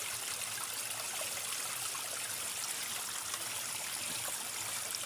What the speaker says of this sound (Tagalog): igib tayo ng napakalinis sa tubig dito sa Muyakbo. Sa bukal, oh.